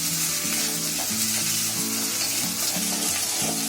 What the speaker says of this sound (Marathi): कांदा आलं लसूणची पेस्ट मस्त फ्राय झाली आहे